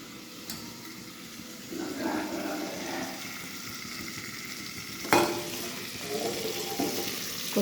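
Crabs and taro fry in a pan with a steady close sizzle while they are stirred, with occasional scrapes and one sharper knock of the utensil against the pan.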